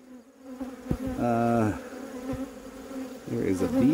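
Honeybees buzz around a hive frame in an apiary, one close buzzing pass swelling and fading, then another rising near the end, over a soft background hum.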